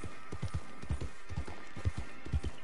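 Horse hooves clip-clop in a steady, quick rhythm across the ground in Red Dead Redemption 2, each footfall a distinct muffled thud, close and moderately loud with faint background ambience.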